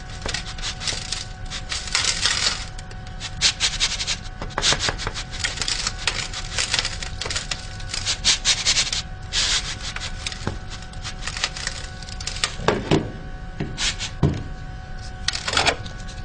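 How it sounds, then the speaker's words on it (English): Dry sand pours and rasps into a metal cone for a specific gravity test, a gritty hissing rush in uneven bursts with a few sharper taps toward the end. "So fill up the cone with this sand."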